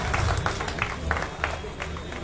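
A crowd claps steadily to welcome a BJP candidate at a civic reception in Gothda, with dense applause and a few louder claps throughout.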